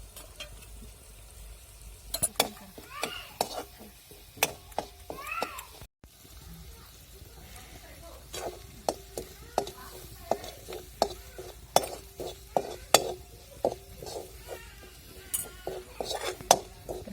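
Spice masalas with turmeric stir-fry in a pan for an aubergine and potato curry, with a soft sizzle under repeated sharp scrapes and clinks of a spoon against the pan in an uneven rhythm.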